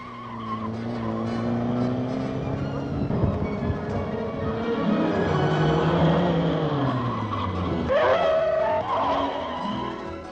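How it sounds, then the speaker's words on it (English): A police car's engine drones steadily while tires squeal and skid in long wavering streaks on a skid pad slicked with oil and water, loud and close, with a brief voice near the end. "This skid pad with oil and water to make it really tricky gives them plenty of practice."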